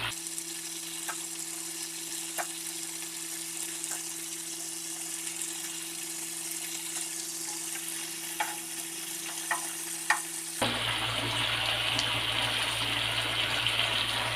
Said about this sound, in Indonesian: Oke, sudah mendidih. Kita akan masukkan ayamnya.